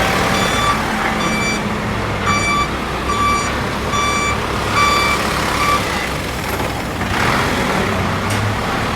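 Repeated reversing beeps from a barangay fire truck, evenly spaced, over a steady rumble of idling engines and road traffic during a street clearing operation.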